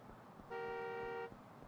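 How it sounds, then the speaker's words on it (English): A car horn honks in a video game, one steady blaring tone lasting under a second, loud and close over quiet background game ambience. "this guy is honking at me"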